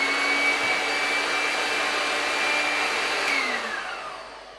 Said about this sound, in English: I take my whisk, my electric whisk, just my ordinary cooking whisk